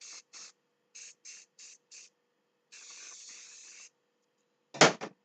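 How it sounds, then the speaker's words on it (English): Pantene hairspray misted over a styled hairdo in several short bursts, then one long steady spray, and a final sharp, louder hiss close to the mic. "take whatever your favorite hairspray is. I'm using Pantene, and just kind of go over the whole look with a hairspray."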